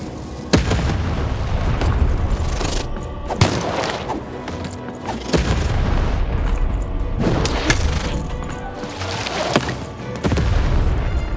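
In the video game Lost in Random, a cannon fires in a series of loud, booming blasts, several deep explosive bangs spaced a couple of seconds apart over a rumbling game background.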